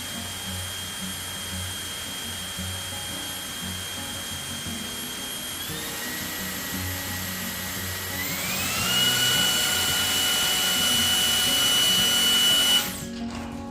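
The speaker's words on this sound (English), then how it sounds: "Now I'm gonna let you guys hear what the vacuum sounds like." Samsung Jet 60 Pet cordless vacuum cleaner running steadily with a high motor whine that rises in pitch twice as the power is stepped up, then cuts off abruptly at the end.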